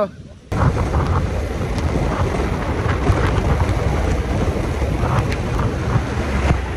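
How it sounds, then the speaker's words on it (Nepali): A strong windstorm at Sailung, Dolakha, roars steadily into the microphone, a dense, continuous rushing with gusty buffeting throughout, loud and close. "हावाहुरी चलिसकेको छ"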